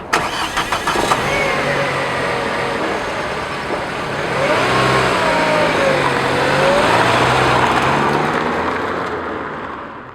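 MG3 hatchback with a 1.5-litre 105-horsepower petrol engine driving by: a mid-pitched engine hum swells and shifts as the car revs and changes speed, fairly loud and steady throughout, with no voices.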